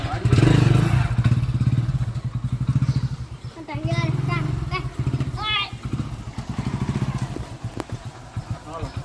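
A motorcycle engine chugs close by in a steady, pulsing rhythm as the bike gets going for a ride out to the farm fields, with people talking over it.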